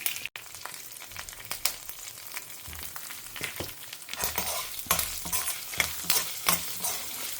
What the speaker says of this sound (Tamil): நம்ம கருவேப்பிலையும் வத்த மிளகாய் பெருங்காயம் இதெல்லாம் போட்டு கொஞ்சம் வறுத்துக்கலாம்